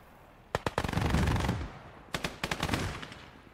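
Two loud bursts of rapid automatic gunfire with sharp individual shots in the WWII video game Gates of Hell: Ostfront, a long rolling volley followed by a shorter one, with no talking.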